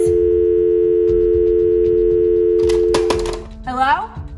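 A telephone line tone holds steady and loud for about three seconds, then cuts off into a brief clatter as the receiver is handled, with a voice rising near the end.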